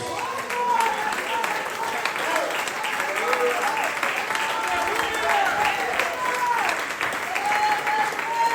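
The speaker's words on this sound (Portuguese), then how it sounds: "Quem pode dar uma salva de palmas a Jesus?" Congregation applause fills a church teaching service, a steady clapping wash that runs the full length, with voices calling out and speaking over it.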